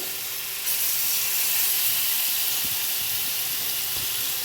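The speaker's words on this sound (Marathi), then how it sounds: "आता एक एक करून ही हापूस मच्छीची तुकडी आपण तेलावर सोडणार आहोत" Pieces of Hapus fish dropped one by one into hot oil in a pan on a high gas flame, giving a steady, soft sizzling hiss that grows louder after the first piece goes in, with faint light clinks.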